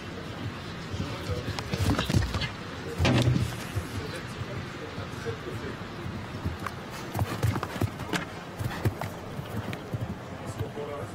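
Horse hooves clip-clop across a show jumping arena at a Nations Cup event in St. Gallen, several firm strikes rising over crowd ambience while a commentator talks throughout.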